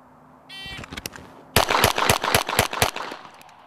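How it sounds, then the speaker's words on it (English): Six rapid gunshots fired at a rear target in a speed-shooting drill, sharp loud cracks in quick succession after a brief beep and a couple of lighter clicks. "Six rounds into the back target."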